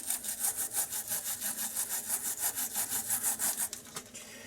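A small brush scrubs a leaked, corroded battery in quick, even back-and-forth strokes, a close, dry rasping rhythm that slows and stops near the end.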